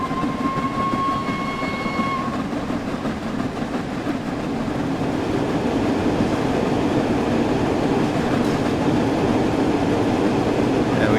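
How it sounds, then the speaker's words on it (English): Flying Scotsman steam locomotive in Train Sim World 4, a steady loud rumble of running gear with a brief high whistle tone in the opening seconds, continuous and close. "speed's still climbing nicely, and we'll get a nice shot of the Flying Scotsman here."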